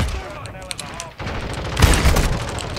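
Loud shotgun blasts in a video game, a dense burst of gunfire swelling near the end over a steady layer of game noise.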